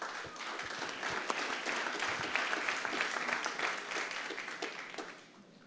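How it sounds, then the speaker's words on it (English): Audience at a tech startup summit breaks into a round of applause, dense steady clapping that holds for several seconds before tapering off at the end. "Just a big round of applause to all our partners here in attendance"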